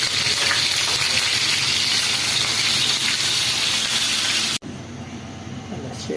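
Dried salted fish (tuyo) frying in hot oil, a loud continuous crackling sizzle close by that abruptly drops quieter near the end.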